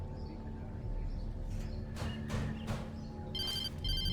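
A telephone rings in the sheriff station of Alan Wake Remastered, two short bursts of a bright electronic trill toward the end, over a low game ambience with faint clicks.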